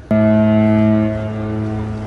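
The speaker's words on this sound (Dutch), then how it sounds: "Hoor ze allemaal, die boten." Deep ship horns in Rotterdam harbour blare together in a sustained, loud chord that starts abruptly and holds steady for about two seconds, with several boats sounding at once.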